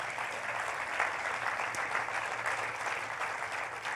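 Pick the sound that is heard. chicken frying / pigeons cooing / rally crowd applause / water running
rally crowd applause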